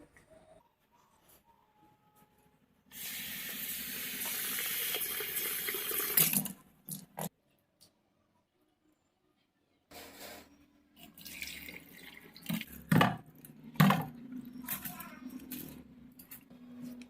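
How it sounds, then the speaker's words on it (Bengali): Rice and mung dal are washed together under a kitchen tap: a loud burst of running water pours for a few seconds, then stops, followed by quieter splashing, rattling and swishing of grains in water close by. "আমি চাল ডালগুলোকে মিশিয়ে ভালোভাবে ধুয়ে নেব।"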